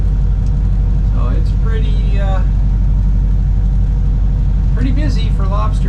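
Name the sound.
classic powerboat engine running while cruising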